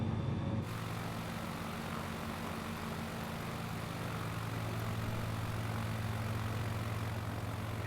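Airplane engine in a flight video game, throttled back to a steady low drone in flight, a brief louder burst at the start before settling into a constant hum with no talk.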